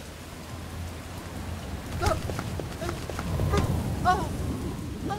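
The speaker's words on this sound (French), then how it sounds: "Et en plus, cette pluie n'arrange rien." Steady rain hiss at nightfall on a road, with low rumble beneath and a few brief higher sounds breaking through; moderate, continuous wash throughout.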